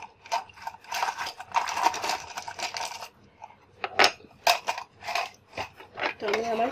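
Presser foot being swapped on a sewing machine for attaching a zipper to a cushion cover: a run of sharp metallic clicks and snaps, close and fairly loud, with brief pauses between the fiddly mechanical clacks.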